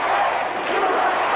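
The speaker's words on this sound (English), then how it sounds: "the crowd gets behind someone with their USA chants" Large wrestling arena crowd chanting "USA" as a match bell rings, a dense roaring mass of voices that stays loud and steady through the short moment.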